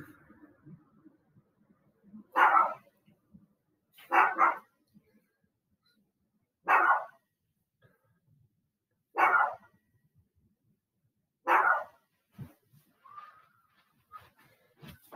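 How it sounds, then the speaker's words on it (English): A dog barks in five separate loud bursts spaced a couple of seconds apart, with quiet gaps between them and no talking. "Sound of a barking dog."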